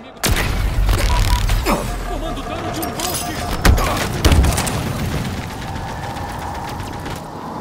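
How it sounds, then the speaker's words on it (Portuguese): In Halo Infinite multiplayer, a grenade explosion booms with a sharp, loud onset and then rumbles away. Heavier low thuds and game noise follow, with a voice partly audible. "Toma a granada."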